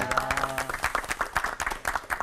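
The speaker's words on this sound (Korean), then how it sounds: "여러분 다시 한번 따뜻한 박수 보내주시기 바랍니다" Audience applause at a church lecture event, a short burst of clapping that rises and falls over about two seconds, with faint tonal music underneath at the start.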